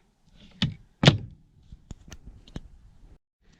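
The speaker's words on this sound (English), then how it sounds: "And it has this little door, and there's one more little drawer up here." A small cabinet door inside a 1997 Dodge Ram Pleasure-Way camper van gives two close wooden thunks, then a few lighter clicks and knocks as it is handled.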